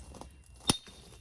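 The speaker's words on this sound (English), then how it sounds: "It sounded like I was hitting glass." A single sharp, bright hit rings out with a glassy, crystalline tone, fairly faint and brief against quiet background.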